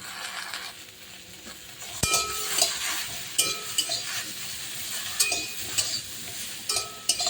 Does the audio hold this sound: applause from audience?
no